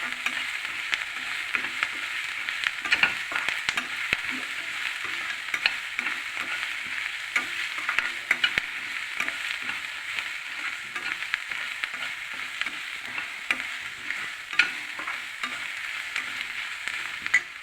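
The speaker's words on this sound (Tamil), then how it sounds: "இப்போ எண்ணெயிலே போட்டு வதக்கணும்." Garlic, curry leaves, dried chillies and cumin sauté in oil, giving a continuous soft sizzle with frequent crackling pops and stirring sounds over an extended stretch, with no talking.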